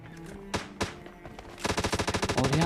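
PUBG Mobile Lite gunfire: two isolated shots, then a rapid burst of automatic fire that continues to the end, loud and close.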